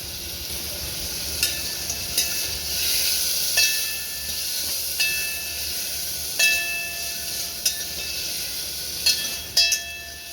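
Shallots, tomato and green chillies sautéing in a pan for drumstick leaf (murungai keerai) sambar, a steady hiss and sizzle with occasional light clicks of stirring, close and unbroken.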